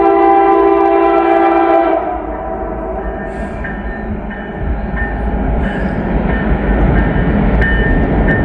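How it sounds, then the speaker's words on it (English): A northbound train rumbles loudly and steadily across a very old bridge, with a continuous low roar of wheels and carriages and repeated metallic clanks and squeals as the cars roll by. "Oh, it's definitely a train."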